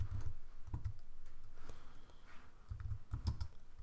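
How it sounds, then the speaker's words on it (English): Someone types a search on a computer keyboard, with quick, soft clicking keystrokes in short clusters that are close and fairly quiet. "So I want you to go to Google and just type in"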